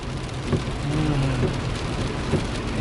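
Heavy rain in Miami during Hurricane Ian: a dense, continuous hiss of rainfall on surfaces, with a low rumble underneath and a couple of soft thuds.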